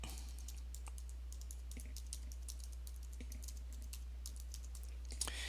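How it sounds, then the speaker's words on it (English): Typing on a computer keyboard, a quick irregular run of close, crisp key clicks over a low steady hum, with no voices. "So if I type in the name of my website"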